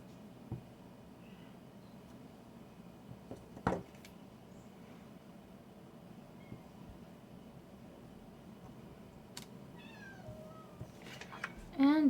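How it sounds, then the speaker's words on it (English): A cat meows a few times in the background, faint and intermittent, with a louder cry near the end, under steady low room noise and some talk. "Excuse me if you can hear my cat crying."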